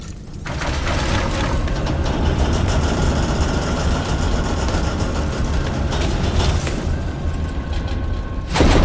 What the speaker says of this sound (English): Did you see that train? The one with the cannons?